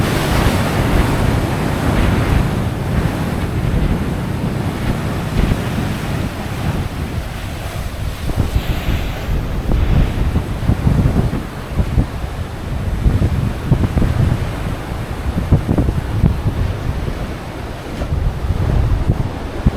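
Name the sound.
ocean waves and sea breeze at Beachport Jetty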